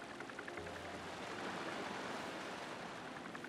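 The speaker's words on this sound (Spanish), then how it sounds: "Hay como tres franjas de oleaje." Rolling waves in the Paper Mario: The Thousand-Year Door cave stage, a steady broadband wash of surf that holds at an even, fairly loud level for the whole stretch with no voices.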